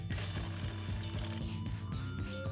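Rapid ratcheting socket wrench clicks while working on a go kart, a steady close mechanical rattle with regular pulses throughout.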